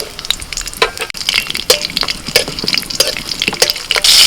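Green chillies and nigella seeds sizzle steadily in hot mustard oil, a loud close crackle broken by sharp spitting pops, with a brief dip near the middle and a brighter hiss swelling at the end; no voices.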